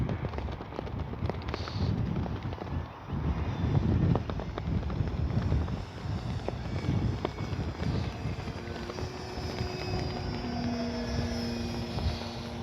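A Hangar 9 J-3 Cub RC model plane, a 10cc twin-cylinder version, passes overhead, its engine drone rising and fading over the field with a steady buzzing pitch near the end, with no voices.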